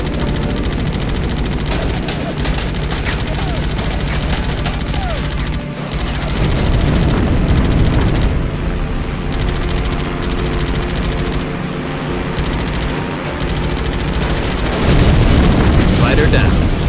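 An aircraft is shot down by gunfire in the WWII air combat game Damage Inc. Pacific Squadron, with dense continuous machine-gun bursts and booming explosions layered over steady engine roar.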